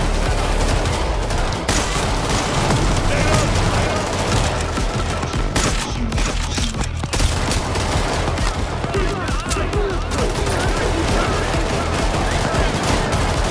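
Rapid automatic gunfire from a sentry gun in the video game Payday 3, a dense, loud, continuous barrage of shots that runs throughout amid chaotic in-game noise.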